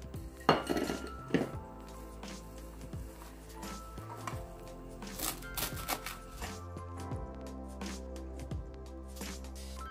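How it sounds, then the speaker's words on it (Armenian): Parsley is chopped with a knife on a board in a home kitchen, making a few crisp taps mixed with clinks of dishes and utensils, close and fairly quiet, with no talk. "կտրատենք մեր մաղադանոսը"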